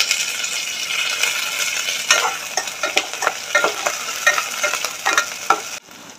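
Chili, garlic and cumin paste with curry leaves fry in a pan for buttermilk kadhi, a bright steady sizzle with quick scraping stirs and light spoon clinks, then the sizzle cuts off abruptly near the end.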